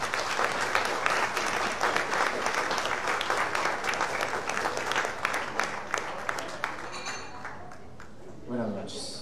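An audience applauds a speaker at a history lecture, loud sustained clapping with crisp individual claps that gradually thins and fades out, followed by a voice beginning to speak.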